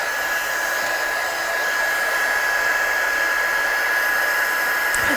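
A hair dryer blasts steadily to dry card before die cutting, a loud, even whoosh with a constant motor whine that runs without a break and has no talk over it.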